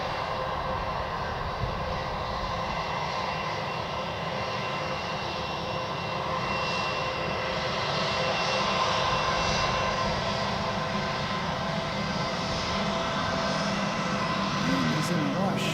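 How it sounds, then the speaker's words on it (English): A fixed-wing aircraft's engines roar steadily as it descends on final approach to land, a broad continuous drone holding level for the whole stretch with faint outdoor ambience around it. "It's always awesome to see an aircraft coming all the way down to the end here"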